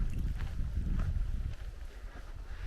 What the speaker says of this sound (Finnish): Mutta on kyllä petollinen tähän aikaan vuodesta toi tuuli.